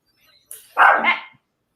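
A dog gives one short, loud, close bark with a brief lead-in yelp, reacting to a noise at the door indoors; the sound is alone, with no talk.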